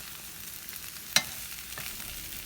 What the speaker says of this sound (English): Mix the potato for minimum 1 minute because it has to mix with the red chili powder.